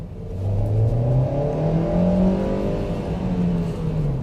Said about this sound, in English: That's a lot of revs.